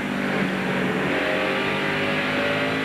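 NASCAR stock cars race together at Richmond International Raceway during the 2000 Pontiac Excitement 400, a loud, steady, droning roar of several engines running close and sustained throughout.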